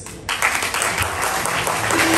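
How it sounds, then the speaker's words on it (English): Guests at a first birthday party in an Indian restaurant break into applause after a brief quieter start, a lively crowd clapping steadily to the end. "A round of applause."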